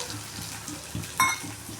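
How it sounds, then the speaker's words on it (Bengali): Eggs fry in a pan for an egg bhaji, a low bubbling sizzle with a quick clack partway through, brief and close. "দেখো এই ভাজার মধ্যে এবার আমি এক একটা করে ডিম ভেঙে অ্যাড করে দেবো"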